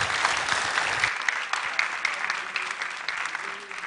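Audience applause after a mentorship-session talk: a dense, steady wash of many hands clapping at once, fairly loud and sustained throughout, with no voices standing out.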